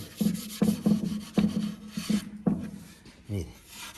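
Old wooden furniture being stripped by scraping, a series of close, rasping strokes with a squeaky, slightly tonal edge, about eight uneven pulls in four seconds, played alone without talk.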